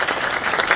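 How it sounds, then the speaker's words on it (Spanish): A brief burst of applause, many hands clapping together in a dense, steady patter. "vamos a darle un aplauso a Cintia y la bienvenida hoy para este tema muy importante"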